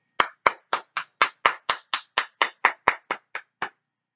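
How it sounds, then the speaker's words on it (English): One pair of hands claps for a young recorder player at a virtual school talent show. About fourteen crisp, evenly spaced claps ring out close and alone in an otherwise silent room. "Give a round of applause for Noah in grade 4 playing Mary Had a Littl"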